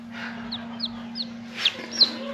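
Newly hatched incubator chicks give a few thin, high peeps, five or so short chirps spaced about half a second apart, faint and close over a steady low hum.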